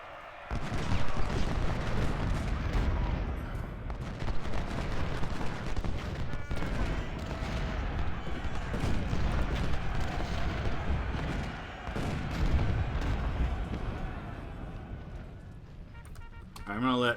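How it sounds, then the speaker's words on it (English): Artillery fire in the Civil War video game Ultimate General: Civil War, with repeated booms and a crackling fusillade rolling on steadily, fairly loud, while someone talks over much of it. "Here's some of his artillery."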